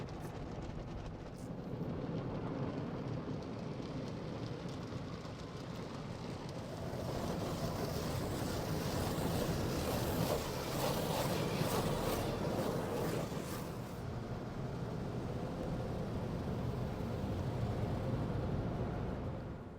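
Car wash spray washes over a Tesla Cybertruck, a long, steady hiss of water with a rushing, windy wash that rises and swells through the middle, heard from nearby with no voices.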